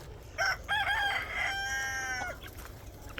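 A 3.5-month-old rooster crows once nearby, a loud drawn-out call that rises and holds before trailing off, with a short cluck at the start.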